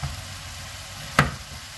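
Ground beef sautéing with onion, garlic and carrot in a pan gives a soft, steady sizzle, broken by one brief sharp scrape or stir near the end.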